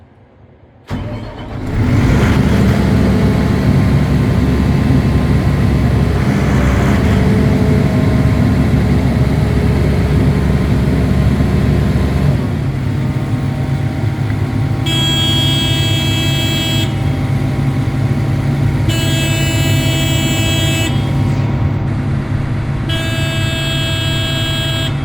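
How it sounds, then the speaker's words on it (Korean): A Wirtgen SP 500 concrete paver's engine cranks and catches, then settles into a loud, steady diesel drone, with a repeating beeping warning alarm sounding in bursts over the running engine. "자, 시동을 걸어볼게요."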